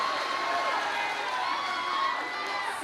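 Large crowd cheering at a Kamala Harris rally in Pennsylvania, a sustained roar of shouting and whooping voices that stays loud throughout with a few higher individual cries rising above it.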